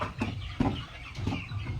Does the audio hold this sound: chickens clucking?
yes